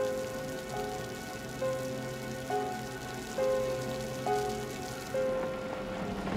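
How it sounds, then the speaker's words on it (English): A heavy rain downpour during a storm makes a steady, even hiss throughout, with sustained musical tones layered over it. "Nancy Heyer set off into the downpour for the hour-and-a-half drive to Southampton."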